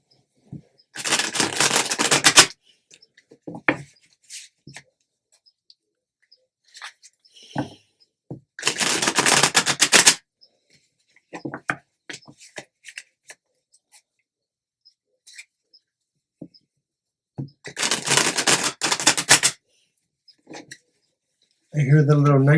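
A thick, stiff tarot card deck shuffled in three separate bursts of crisp riffling clatter, close and fairly loud, with quiet gaps and a voice speaking in between.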